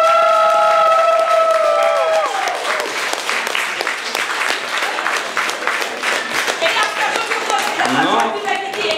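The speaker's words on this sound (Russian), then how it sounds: "Давайте, ребята, еще много аплодисментов" Applause and scattered cheers from the audience fill the hall at the SuperSonicCon-2014 fan convention, a loud, continuous burst of many hands clapping that follows a brief musical tone, with voices mixed in toward the end.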